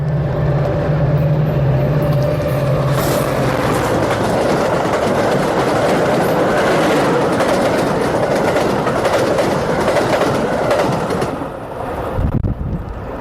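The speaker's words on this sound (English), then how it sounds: "if any of you listeners are wondering what it sounds like when an express train goes through, here it is" An express train rushes through at close range, a loud continuous roar with rattling wheel clatter and wind buffeting that holds steady for most of the pass, then drops away sharply near the end.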